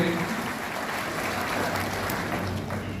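A crowd at a memorial anniversary gathering for Maharaj Shakti Singh claps as a team is honoured, producing a continuous, evenly sustained wash of applause that carries on throughout without pausing.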